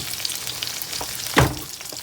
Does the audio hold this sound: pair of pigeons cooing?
no